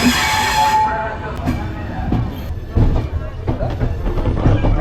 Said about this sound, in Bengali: এই ট্রেন হচ্ছে খুদ্দা রোড জংশন রেলওয়ে স্টেশন থেকে ছেড়ে দিল।